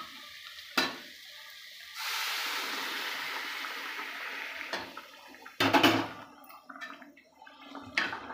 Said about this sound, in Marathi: आता याच्यामध्ये मी गरम पाणी ओतते.